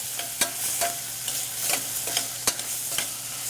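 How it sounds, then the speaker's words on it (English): Tomato paste being stirred into a simmering pork ragu, with soft sizzling under several quick scraping strokes of a spoon against the pot, close and moderately quiet, with no talking. "Now what I'm going to add is a little bit of tomato paste. We're going to stir this up."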